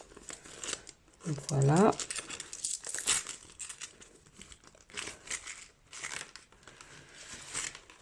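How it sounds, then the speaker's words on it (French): Paper crinkles and rustles as money is slipped into a paper envelope, in close, soft bursts, with someone speaking between the sounds. "je vais le mettre là, dans l'enveloppe"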